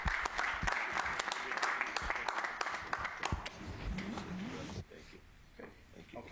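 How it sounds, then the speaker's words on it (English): An audience at a county meeting applauds, a dense burst of clapping that runs for several seconds and then fades out. "A round of applause"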